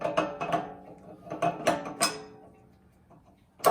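Metal clanks and scrapes as the cutting plate is swapped on a sausage meat grinder during a coarse grind, with several sharp knocks in quick succession, a quieter pause, then one loud final clunk close by.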